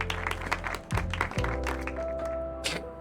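Sparse, paltry applause from an in-game audience in the video game Loverwatch, a few scattered claps over steady background music and hum.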